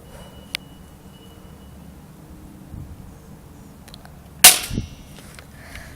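A Skorpion Double Eagle airsoft gun fires once, a single sharp crack with a brief snap, preceded by a small click and quiet handling noise.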